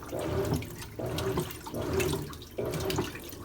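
Water gushes and swirls as an Easy washing machine fills. The flow is loud and close, surging in waves roughly every second, and no one speaks.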